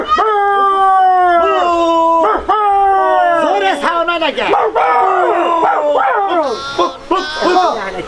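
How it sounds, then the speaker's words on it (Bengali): A dog howls loudly in long, wavering, rising and falling cries, then breaks into yips and barks near the end, heard close up while people talk over it in a comedy skit. "ওই ওই কার বাড়ির কুত্তা রে নাইছে"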